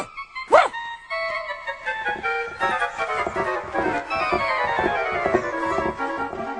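A frightened little dog in a cartoon yelps sharply once, then gives a run of quick, whimpering barks and yips, close and fairly clear over faint background music.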